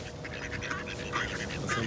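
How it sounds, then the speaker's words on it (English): A flock of ducks and park birds at a lake gathering for food, quacking and squawking in quick overlapping bursts close by, over a low outdoor rumble with a faint voice in the background. "He's feeding all of these birds."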